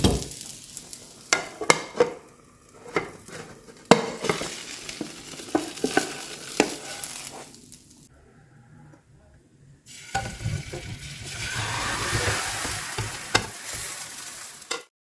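A cheesy Spanish omelette cooks on a low flame in a pan, with irregular scrapes and knocks of a spatula as it is turned, a brief near-silent pause, then a renewed soft, steady sizzle.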